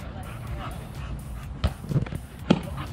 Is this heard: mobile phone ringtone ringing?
no